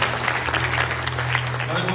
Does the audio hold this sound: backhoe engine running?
no